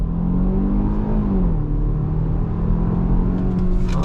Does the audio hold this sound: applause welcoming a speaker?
no